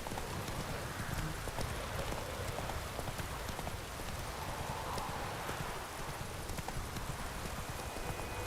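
Horse hooves clip-clopping in The Witcher 3's White Orchard, a steady rhythmic trot under a dense outdoor ambience with a faint rain-like wash throughout.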